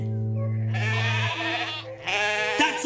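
Sheep bleat twice in a row, each call long, loud and wavering, with a low steady hum beneath the first and no talking over them, heard as part of an animated children's show.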